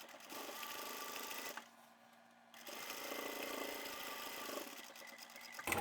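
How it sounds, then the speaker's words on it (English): A sewing machine back-stitches elastic under the band of a simple one-piece harvesting apron. The motor hums steadily, stops for a moment, then starts again and runs on. It sounds close and fairly quiet, with no talking. "I'll have this elastic lined up underneath that band, back stitch here, and sew over that line of stitching"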